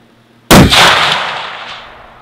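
A single loud rifle gunshot fired at Jarrett Rifles, a sharp close blast followed by a long fading echo that rings out over about two seconds.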